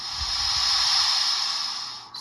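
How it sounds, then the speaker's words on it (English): An HO scale model locomotive's steam release sound: a steady, hissing burst vents for about two seconds, airy and bright, then cuts off abruptly. "Steam release."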